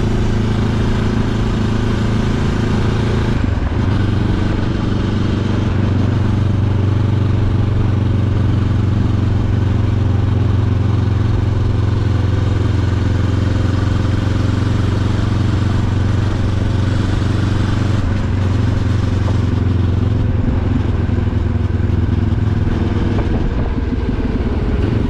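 A QJMotor SRT 700 motorcycle engine runs steadily at close range, a constant low rumble with slight shifts in pitch throughout.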